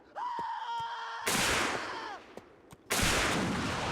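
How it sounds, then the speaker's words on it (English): Cannon fire on an American Civil War battlefield in Mount & Blade Warband, two loud broadband blasts with a rumbling tail, preceded by a wavering groan-like tone and some scattered battle noise. "that cannon just fired straight through me"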